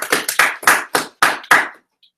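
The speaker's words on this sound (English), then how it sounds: "That was weak clapping." A small audience at a spring school showcase claps in a short, thin burst of about seven distinct claps in an uneven rhythm, close and fairly loud, before stopping abruptly.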